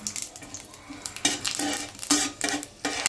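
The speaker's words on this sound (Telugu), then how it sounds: "నేను పలావ్ దినుసులు వేసుకున్నాను అవి కొంచెం ఇలా వేగనివ్వాలండి" Whole pulao spices fry in hot oil for coriander-mint rice, a crackling sizzle broken by bursts of stirring as a metal spoon scrapes and knocks the pan, close and moderately loud.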